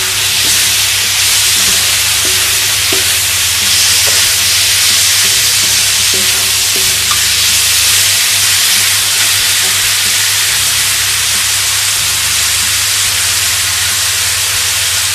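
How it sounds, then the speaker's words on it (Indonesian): Spicy seasoned beef fries in a pan with a loud, steady sizzle and hiss, stirred now and then, with no talking over it. "Ini saya cuma mencontohin cara membuat daging goreng bumbu pedas."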